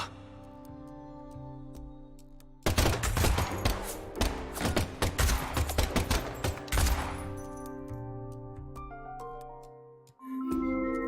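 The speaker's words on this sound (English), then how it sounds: "the last gunshot we heard sounded ominous" Bursts of rapid gunfire in the video game Deadly Premonition 2 crackle loudly and close over a tense musical score, then fade as the music continues alone.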